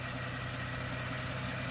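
A truck engine idles steadily in the background, a continuous low rumble with a mid-range hum and no pauses, no one speaking over it.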